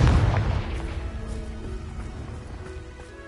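A Confringo spell blast in Hogwarts Legacy gives a loud booming burst at the start, then a rumbling decay with lingering tonal hum and small crackles fading over a few seconds.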